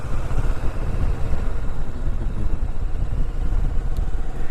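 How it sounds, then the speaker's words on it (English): A motorcycle engine rumbles steadily and close by as the rider eases out the clutch and shifts from first into second gear, with a dense low drone throughout and no speech. "click up into second with my left foot, slowly let out on the clutch as I slowly give it a little more throttle with my right hand"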